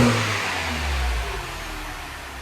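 A BMW Mini engine runs steadily close by after a blocked VANOS solenoid was cleaned, a low throaty rumble that dips slightly partway through, with no voices.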